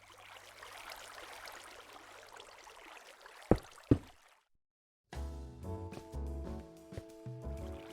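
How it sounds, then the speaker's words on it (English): Underground water in a Minecraft-style video game cave, heard as a steady faint trickling stream that cuts out after a few seconds. Game music or tones then take over. "Sounds like water."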